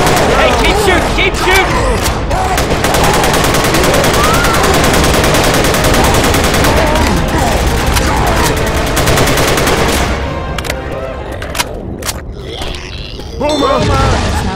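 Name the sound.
gunfire in video game Left 4 Dead 2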